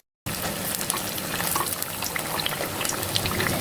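Kerupuk crackers frying and puffing up in hot oil make a loud, steady, dense sizzle that starts abruptly and keeps going without pause.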